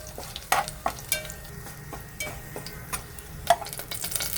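Garlic and curry leaves crackle in hot tempering oil for a Malvani crab curry, a soft steady sizzle with a few sharp pops and utensil ticks.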